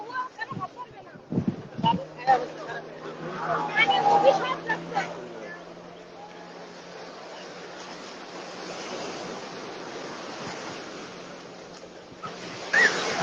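Steady surf washes along the beach at Kuakata, Bangladesh, with a low, continuous rush, while voices murmur faintly nearby and a few bumps sound early on.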